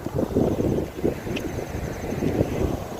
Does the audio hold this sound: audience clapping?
no